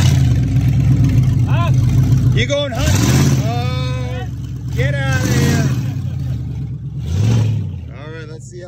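Ford and VW diesel cars revving hard during a burnout, several loud rising and falling engine surges with a steady rumbling idle underneath, while people talk and shout nearby.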